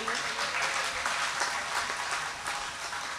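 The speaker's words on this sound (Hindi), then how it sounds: "तो ये तालियां बज जानी चाहिए।" Audience applause at a comedy poetry recital in a cultural hall in Bhiwani: steady, dense clapping from a crowd that stays even and fairly soft for the whole stretch.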